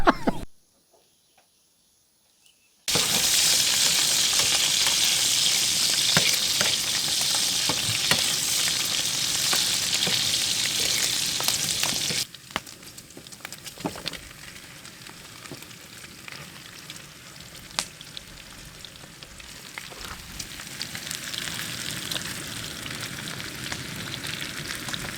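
Garlic sizzling in a small camping pan outdoors, a loud steady fry that starts after a brief silence, then drops to a quieter crackle with occasional stirring clinks.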